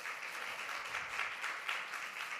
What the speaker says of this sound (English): can we have another round of applause for all the post presenters?